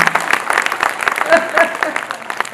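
An audience claps in a burst of uneven, overlapping hand claps at a close-to-moderate distance, with a voice talking over the applause throughout.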